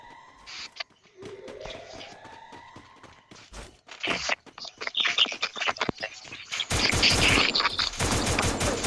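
Gunfire fills a Free Fire battle-royale match, with scattered single shots and then dense rapid bursts building into sustained automatic fire toward the end, loud and close.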